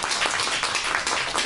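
Audience clapping to welcome a professor, a short burst of dense applause at moderate volume lasting about a second and a half.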